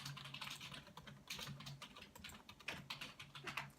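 Quick, light clicking of keys on a computer keyboard, irregular bursts of taps at close range, soft and alone.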